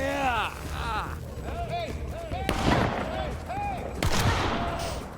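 Gunfire in The Quarry video game, with sharp bursts of shots rising over shouting voices and a busy action soundtrack, loud and chaotic, with people talking throughout.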